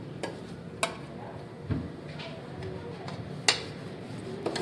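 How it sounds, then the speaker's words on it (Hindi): Fried rice is stirred and scooped from a pan into a serving dish, with scattered metallic scrapes and clinks of a spoon over a soft background hiss, the sharp taps coming irregularly and at close range. "अब मैं डिश में निकाल रही हूँ।"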